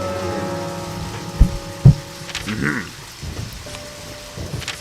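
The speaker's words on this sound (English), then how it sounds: "You need to wait for it to be raining at night." Nighttime rain in the video game Deadly Premonition, a steady soft hiss of falling rain broken by two sharp thumps and a few muffled tonal game sounds.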